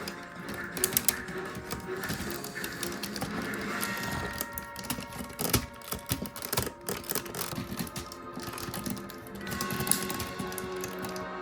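A plastic Transformers Megatron action figure being folded and transformed gives off dense, close clicking and ratcheting as its joints and parts snap and rotate, with scattered sharper clicks throughout.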